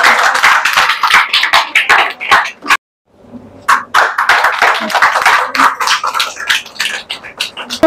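An audience at a cultural prize ceremony claps loudly and densely for several seconds. The applause breaks off briefly, then resumes just as strong and close.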